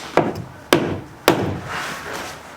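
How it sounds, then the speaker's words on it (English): Three sharp hammer blows land a few beats apart during work on a tiny house metal roof, each strike loud and close with a brief ringing decay and faint rustling between. "Trying to hammer it in like this."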